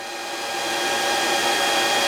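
An Antminer Z15 Pro ASIC crypto miner's cooling fans roar steadily from a couple of feet away, a loud, even broadband whoosh that swells slightly at the start and then holds constant, with no talking.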